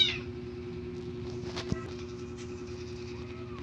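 Several house cats meow near the microphone, one clear meow at the start followed by softer, intermittent cries over a steady low background hum.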